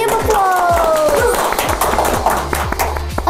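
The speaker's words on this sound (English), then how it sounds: "give applause" Small audience at a madrasah podcast recording breaks into lively clapping and cheering, loud and close, with a voice calling out over the start before the applause settles into scattered claps.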